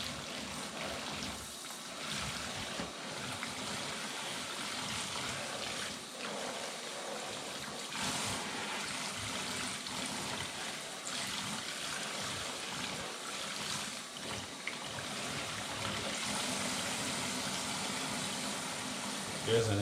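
Water rinsing a heat pump filter: a steady, close stream of running water that hisses and splashes without a break for the whole stretch.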